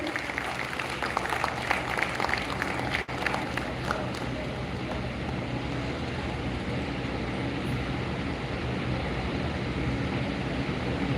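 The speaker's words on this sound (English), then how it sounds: "A huge round of applause for the moment." An audience gives a sustained round of applause at the ICIAI 2025 inauguration ceremony, with dense clapping that is loudest in the first few seconds and then settles into an even, continuous patter lasting about eleven seconds.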